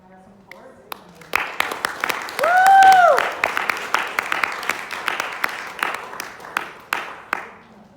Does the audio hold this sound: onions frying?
no